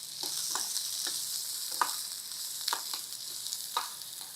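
Chopped onion frying in a pan for a brinjal masala curry, with a steady broadband sizzle and the scrape of stirring at irregular intervals, close and alone.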